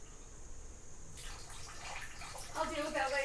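Tap water runs while filtered water is drawn in a home kitchen, a steady splashing flow that grows louder and fuller toward the end, close by with no talk over it.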